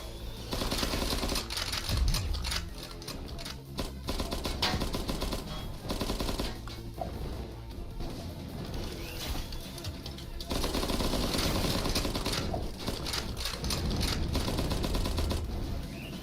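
Continuous video-game gunfire with friendly fire in Cavalry Girls, dense rapid automatic shots crackling throughout, loud and steady with a heavier stretch near the end, no talk over it.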